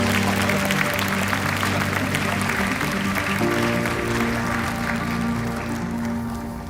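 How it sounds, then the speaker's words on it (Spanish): An audience at a talk on the shadows and challenges of AI applauds steadily and loudly for several seconds to welcome a speaker, a dense continuous clapping that fades slightly toward the end. "Un aplauso."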